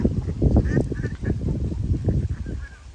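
Ducks at a village riverside ferry landing where boats are moored give rough, nasal quacks in short, close, overlapping bursts against a low background murmur.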